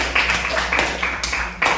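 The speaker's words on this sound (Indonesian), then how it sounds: "Tepuk tangan untuk kelompok 1" Participants in an Indonesian teacher-training classroom clap for the first discussion group: a short, fairly close burst of hand claps with a few sharper accents.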